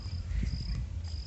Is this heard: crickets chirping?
yes